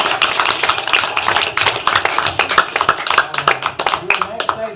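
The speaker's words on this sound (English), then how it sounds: "Give her a big round of applause." Loud, dense audience applause at a live event, many hands clapping close together for several seconds, with some voices mixed in.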